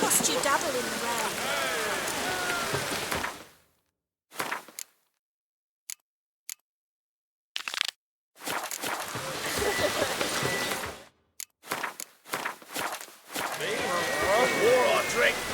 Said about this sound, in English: Must you dabble in the rain?